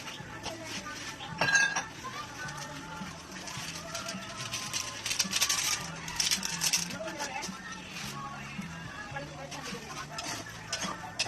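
Alamang shrimp paste with vinegar is stirred in a pan, the utensil scraping and clinking against the metal in irregular taps and scrapes, with background noise and talking in the room.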